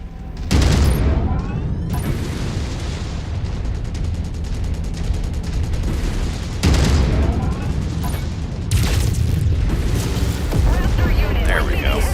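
Sustained heavy weapons fire and booming explosions from battling mechs in MechWarrior 5 Mercenaries, a dense, loud, continuous roar punctuated by sharper blasts, with a voice speaking over the din.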